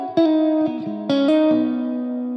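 Sustained electric guitar notes and chords pass through an effects unit, with distorted, shimmering tone and long reverberant tails between changes.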